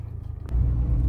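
A car engine turns over and catches, the low rumble suddenly swelling into a steady idle, close and loud with no talk.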